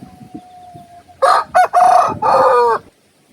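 A single rooster crows nearby, loud and clear, in a drawn-out broken call that follows a second of faint background noise.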